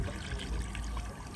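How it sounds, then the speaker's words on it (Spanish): Water pours steadily into a cooking pot while carne adobada is being prepared, a continuous close rushing splash with no pauses and no voices. "¿Cómo vamos a tener esta olla más o menos al ras? O sea, no llenarla tanto de agua."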